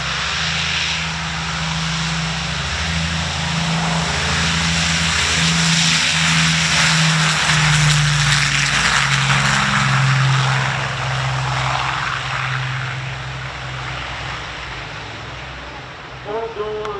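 A de Havilland DH-98 Mosquito FB Mk 26 warbird flying past at an air show, its twin propeller engines giving a loud sustained droning roar with a shifting, beating pitch that swells and then fades.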